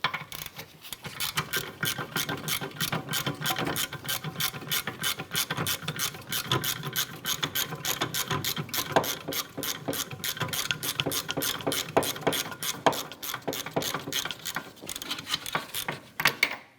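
A hand ratchet with a 14mm socket loosens caliper bracket bolts on a 2004-2008 Acura TL during rear wheel bearing work, clicking rapidly and steadily throughout, close and fairly quiet with no talking.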